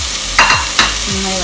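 Tomatoes and green chillies tossed into a hot pan for a Kerala-style squid roast, giving two short bursts of stirring and sizzle over a quiet background.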